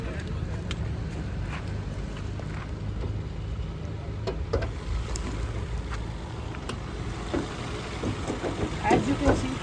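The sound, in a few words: Honda Elevate 2023 car engine running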